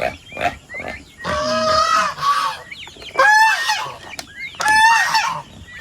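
Several pigs grunting and honking close by in short bursts, with loud squealing calls mixed among noises of feeding on water spinach and rice bran on a farm.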